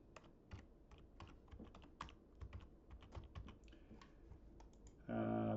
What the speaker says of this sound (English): I'm going to double click on it and I'm going to type in